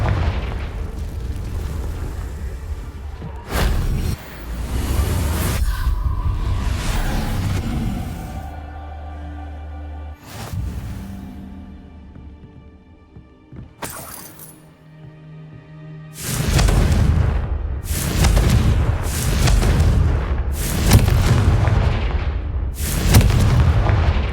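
Confringo fire spells blasting in Hogwarts Legacy, heavy booming explosions, some long and rumbling and others in a quick run of sharp bursts near the end, loud and close over a steady game background.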